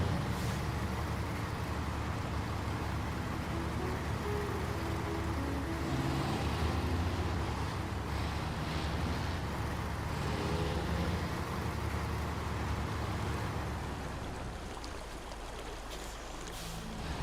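Freightliner truck engine in the video game Snowrunner, a low, continuous rumbling drone that stays loud and steady and eases slightly toward the end.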